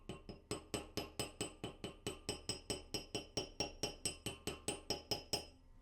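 Steady, rhythmic metal hammer blows on jewelry wire for a wire-wrapped piece, about twenty sharp strikes close up, evenly spaced and ringing slightly, with no talking.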